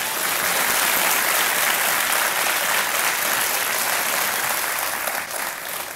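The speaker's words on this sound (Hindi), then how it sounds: "ताली बज जाए इनके लिए" A television quiz show studio audience, on Kaun Banega Crorepati, breaks into loud, dense applause that holds steady and close for several seconds before easing slightly at the end.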